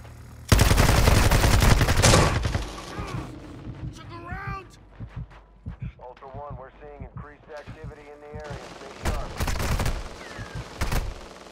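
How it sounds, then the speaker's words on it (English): Heavy automatic gunfire in the Call of Duty DMZ video game, loud close bursts and rapid volleys in two main clusters, with voices talking between the shooting. "You are taking effective fire."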